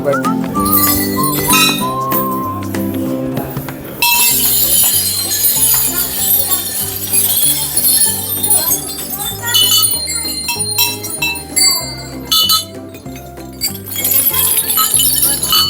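Metallic temple bells at a Ganesh temple in Nashik clink and ring repeatedly over loud rhythmic music with a deep, steady beat, and voices may be faintly present in the mix.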